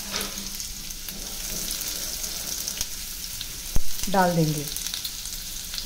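Chopped onions and a bay leaf fry in hot oil with a soft, continuous sizzle, broken by a sharp clatter and a brief rising scrape near the end, while a voice speaks briefly.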